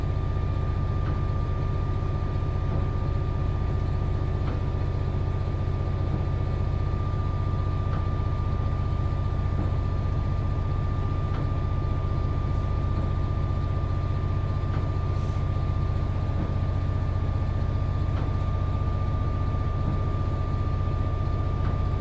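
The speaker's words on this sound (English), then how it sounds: "The sound of this train is amazing." A train runs in the Train Sim World 3 video game, giving a steady loud low rumble with a sustained tonal hum and faint rhythmic rail clicks, with no talking.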